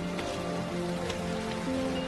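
Steady rain falling on a surface outdoors by a porch, a constant close wash of patter throughout with faint tonal sounds underneath.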